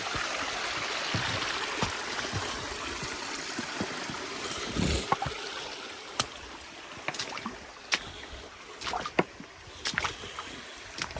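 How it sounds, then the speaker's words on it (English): Water flows freely along a creek in a wooded hollow once a blockage is cleared, a continuous gurgling rush under scattered nearby splashes and knocks, with no talking. "Water flowing good."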